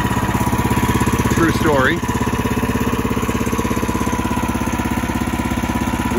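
A small gasoline engine on a bandsaw mill runs at a steady putter with rapid regular firing pulses, close and loud, while a person speaks briefly over it.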